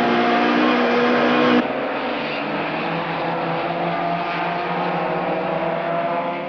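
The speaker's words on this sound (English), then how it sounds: "The two cars accelerate up the hill to Caltex towards the final corner" Opel Astra touring race cars at Kyalami in the 1993 South African Super Touring final roar continuously as they accelerate uphill toward the last corner, a loud sustained engine drone that dips slightly after an abrupt early shift.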